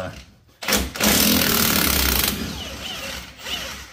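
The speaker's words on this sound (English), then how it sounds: "Usually don't like using an impact with anything that has a clip like that for a retainer" An air impact wrench removes a clip-type suspension retainer on a Silverado Z71 front end raised on jackstands, giving one loud, harsh buzzing burst of about a second and a half that fades into quieter mechanical rattling.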